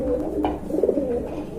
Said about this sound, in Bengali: ভাই এটা কি কবুতর? বারহুমা কবুতর।